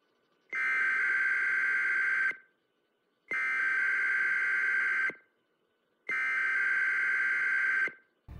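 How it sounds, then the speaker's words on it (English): Emergency broadcast alarm from the game Modern Warfare 2: three long, steady droning electronic tones, each about two seconds, separated by short silences, loud and alone. "The debrief is just an emergency broadcast message, which drones with an unsettling alarm."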